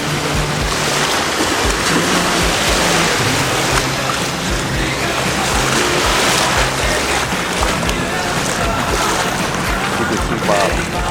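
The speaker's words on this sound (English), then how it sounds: "I'm walking from the beach into the ocean right now." Ocean water at Sarasota sloshes and churns loudly and continuously as someone wades from the beach into the sea, a dense broadband wash with wind buffeting the microphone.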